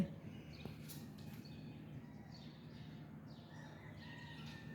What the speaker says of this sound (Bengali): পাখির কিচির পেঁচির আওয়াজ শোনা যাচ্ছে